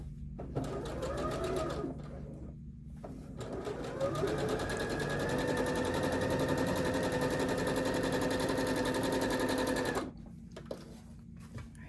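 A sewing machine sews quilt squares along a diagonal line in long, steady bursts of rapid stitching. A short run comes first, then a longer one of about six seconds, with quiet gaps between them.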